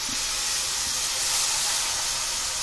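Tomato puree hits hot fried spices in a pan, sending up a loud, continuous broadband sizzle and hiss that holds steady from start to finish, with no talking over it.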